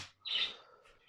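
A baby parrot chirps in one bright, sharp burst, close and fairly loud, followed by a fainter second call, with no talking.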